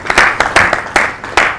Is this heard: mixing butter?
no